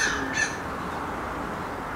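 A crow gives a single short caw outdoors as it flies past, set against steady background noise.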